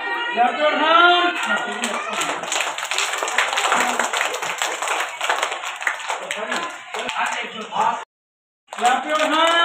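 A group of children clap their hands in an ongoing burst of quick, dense claps, heard under loud talk and children's voices, with a short break near the end.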